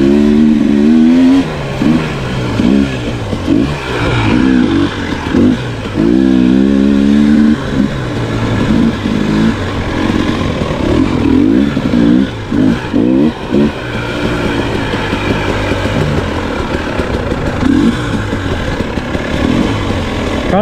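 A new KTM 300XC two-stroke dirt bike on a wooded trail, loud and close, revving repeatedly in short bursts with throttle blips and dips between, then settling into a steadier, choppier running note.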